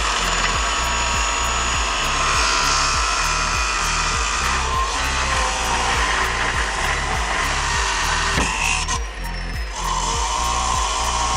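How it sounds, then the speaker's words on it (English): A power tool cuts through worn U-bolts on an old Tatra truck during an off-road build, giving a loud, close, continuous grinding whine over a pulsing low drone for several seconds. "And now we are going to cut the U-bolts."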